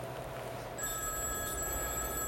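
Telephone bell ringing in an old film, a steady electronic ring with sharp high tones starting partway through over low room rumble.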